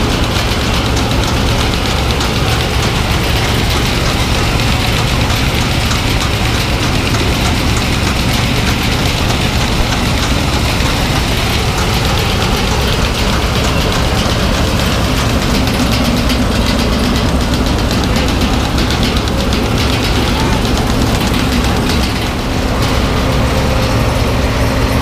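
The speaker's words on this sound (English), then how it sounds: "let's just enjoy the combine for this last pass" A combine harvester engine runs steadily and loudly through a bean harvest, with a constant low drone and a mechanical rattle that continue without a break, and no voices.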